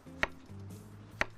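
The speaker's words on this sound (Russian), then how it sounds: "кабачки я нарезаю вот такими вот" A knife cuts zucchini into thick rounds for a grilled-vegetable lecho, giving two sharp, close chopping knocks on a board about a second apart in a quiet kitchen.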